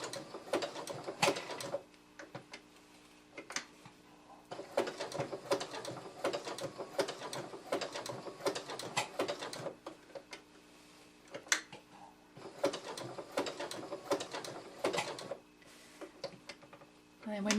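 A sewing machine stitches an applique quilt block at a slowed speed, its mechanical needle clatter running in bursts with short pauses between them.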